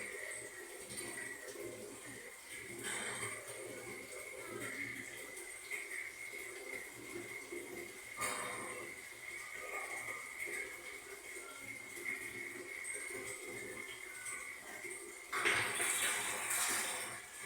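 Water rushes out of a pipe or tap in a steady broadband flow after being held back and then released, building to a louder surge near the end, with faint room noise and no speech.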